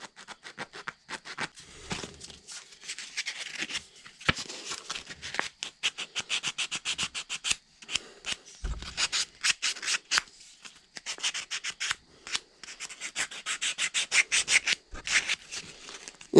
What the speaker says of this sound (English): want to sand it a bit